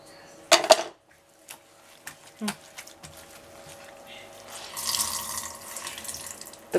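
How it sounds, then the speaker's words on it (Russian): Tap water running into a kitchen sink while a dirty frying pan is washed, a hissing stream that swells near the end, with clinks of cookware and a voice speaking now and then. "Грязная сковородка, мыть надо."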